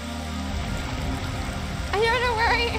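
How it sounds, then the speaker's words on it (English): Steady rain falls in a video game as a dense, even hiss that fills the whole stretch. A wavering, whistle-like tone rises over it near the end. "Why is it raining?"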